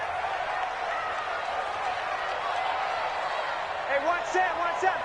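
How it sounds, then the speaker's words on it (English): A stadium crowd in an American football video game roars in a steady, dense wash of cheering throughout, with faint voices and whistles rising near the end. "The crowd getting into it as we come up on a big 3rd down."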